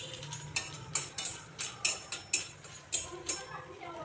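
Whole spices such as cardamom, cinnamon, dried chilli, cloves and peppercorns stirred in a pan on low heat, giving a series of sharp scraping clicks of a spoon against the pan about every half second.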